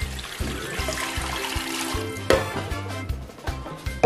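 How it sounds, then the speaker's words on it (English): Water poured into a pressure pot already holding cow head, cow skin and meat for Delta native Owoh soup, a steady splashing pour lasting several seconds with clattering pot sounds and a sharp knock near the middle. "Add some water."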